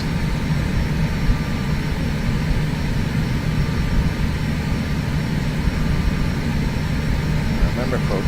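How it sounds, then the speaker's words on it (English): A small plane's engine idles in the FSX flight simulator, a loud, steady, even drone with a constant hum that holds unchanged for the whole stretch, with talk faintly mixed underneath. "I'm at idle here. The engine of this plane is virtually overpowered."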